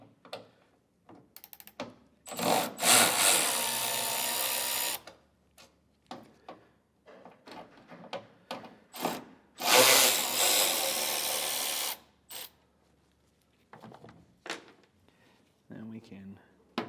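A power driver with a T15 Torx bit backs out two taillight screws on a 2022 GMC. It gives two steady whirring bursts, each lasting a couple of seconds, with someone talking in between.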